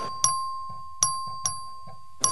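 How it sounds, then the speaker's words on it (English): Voting bell in a House chamber rung by the clerk during a record vote, four sharp metallic dings at uneven intervals, each with a bright ringing tone that decays quickly, with soft thuds between strikes and no talking. "The clerk ring the bell."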